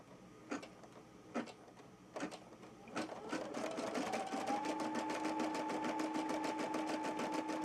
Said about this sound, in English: now we're going to let it go ahead and go around again and stitch the applique stitch